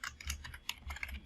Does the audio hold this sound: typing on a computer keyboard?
yes